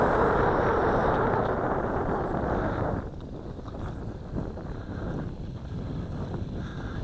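Wind roaring steadily across a microphone outdoors while a Syma X9 Flycar drone flies on long range with an X8C controller, loud for the first three seconds, then easing to a lower, gusty rumble.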